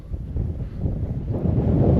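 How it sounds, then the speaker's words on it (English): Strong wind buffets the microphone on open water during spring bass fishing in Nebraska, a steady low rumble that swells louder toward the end, with no talk. "It's so windy."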